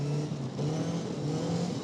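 A Caterham Seven 420 Donington Edition sports car, one of only ten built, drones with a steady engine note at near-constant revs, a sustained low hum carried over road and wind noise.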